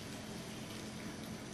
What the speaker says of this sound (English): you can always just water gently from the top, and then fill the saucers up